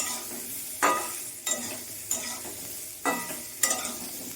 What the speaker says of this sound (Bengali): আমি খুব বেশি ভালো করে ভাজবো না, অল্প একটু ভেজে নিচ্ছি।